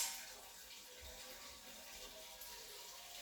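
Water from a bathroom tap filtered through a cloth, from a well with murky water: a steady broadband hiss of running water, moderately quiet and continuous, with no voices.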